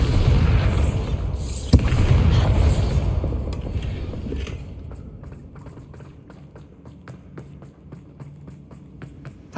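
A Bombarda blast spell goes off in Hogwarts Legacy: a loud booming burst with a sharp crack, followed by rumbling combat noise that fades into quieter clicks and mechanical clatter.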